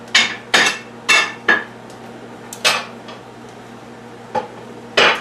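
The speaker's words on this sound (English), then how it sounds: "I'm going to take items out of the oven." Tupperware oven-safe dishes and pans clinking and clattering as they come out of an oven with dinner, several sharp close knocks spaced irregularly with quiet gaps between them.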